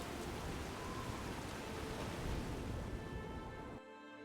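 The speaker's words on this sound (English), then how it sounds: "Oh, a storm." Rain storm in the video game Skyblivion, a steady, dense hiss of falling rain filling the scene at moderate volume, cutting off abruptly near the end with no talking.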